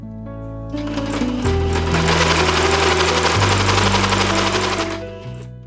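A sewing machine stitches a pocket lining and bias binding in one continuous, fairly loud run, starting and stopping cleanly with small shifts in motor pitch.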